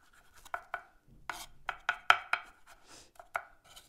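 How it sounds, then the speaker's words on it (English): Garlic cloves minced with a knife on a board, a quick irregular series of sharp chopping taps, close and fairly quiet against near silence. "I'm just gonna mince this really well"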